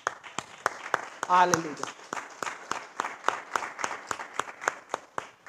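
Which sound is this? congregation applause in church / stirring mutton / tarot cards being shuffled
congregation applause in church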